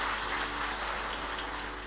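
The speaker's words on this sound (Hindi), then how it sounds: "पहले इनके लिए ताली बजाओ, 11 साल की हैं" An audience applauds an 11-year-old girl at a devotional bhajan gathering, a steady wash of clapping from a crowd, moderately quiet and continuous throughout.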